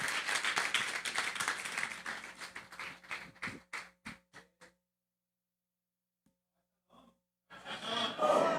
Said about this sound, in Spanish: Denle un aplauso fuerte al Pastor Gabriel.